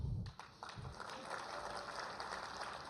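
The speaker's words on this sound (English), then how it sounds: "You don't have to clap every time, but just amongst yourselves" Guests at a charity gala dinner clapping and cheering for their own tables, a loose spread-out patter of applause with crowd murmur and some voices underneath.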